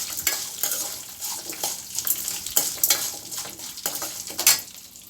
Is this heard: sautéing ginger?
yes